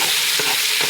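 Carrots and mushrooms lightly salted sizzle steadily in a hot pan for coq au vin, a continuous frying hiss broken by two soft stirring scrapes, with no talk.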